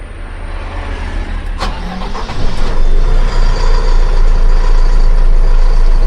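A Tata LPO tourist bus with a 5400 mm body fires up: a short crank with clicks, then the diesel engine catches and settles into a steady, loud, low idle rumble nearby.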